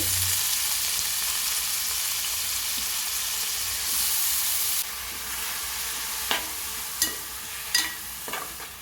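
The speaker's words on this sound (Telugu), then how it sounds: "రెండు నిమిషాల పాటు బాగా వేగనివ్వాలండి" Grated onion frying in a pan as the base for a vanjaram (seer fish) curry, a steady close sizzle with occasional scraping stir clicks toward the end.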